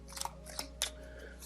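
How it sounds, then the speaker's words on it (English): Tarot cards drawn from a deck make faint, crisp snaps and slides in a few brief bursts, quiet and close against a low background hum. "I'm going to get the last two remaining cards"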